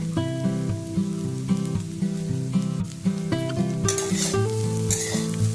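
Fried rice with soy sauce and pepper hissing in a hot pan while a spatula stirs and scrapes, loud close sizzling with rhythmic stirring strokes and a bright surge of spattering near the end, over faint background music.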